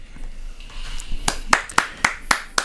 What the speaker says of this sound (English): Hold your applause till the end.